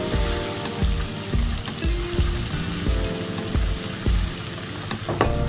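Chopped tomatoes hit hot fried onions in a pan with a loud, steady sizzle, broken by repeated stirring and scraping knocks, no voices.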